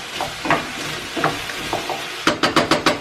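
Shrimp and chicken yellow curry sizzles in a pan under a steady frying hiss, with scattered stirring scrapes and then five quick, evenly spaced strokes close up near the end.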